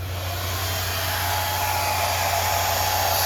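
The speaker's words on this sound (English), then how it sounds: "that's when you want to get your blow dryer and go over it." A blow dryer runs continuously, drying wig glue, its loud, steady whirring hum holding constant and close, with nothing else heard.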